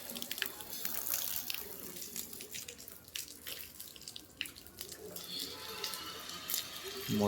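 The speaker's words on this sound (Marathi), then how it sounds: "मित्रांनो आता मी इकडून पाणी मारतोय." Water sprays from a hose in a steady, hissing rush with scattered splashes and drips, continuous and fairly close for the whole stretch.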